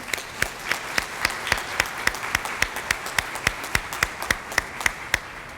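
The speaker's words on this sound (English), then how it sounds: "Please help me give each of them a round of applause" A crowd at a school district partnership recognition breakfast applauds steadily, with many hands clapping in a dense, continuous patter at moderate loudness.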